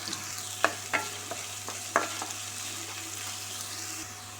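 Chopped garlic, beans and onion frying in two teaspoons of hot oil in a pan for ragi millet noodles; continuous sizzle with several sharp clacks of a spoon stirring against the pan early on.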